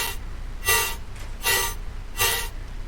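Drop chords and a drop lead from a dubstep track, heard as three loud, bright, broadband synth stabs at an even pace with quieter gaps between them.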